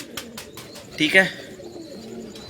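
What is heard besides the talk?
pigeons cooing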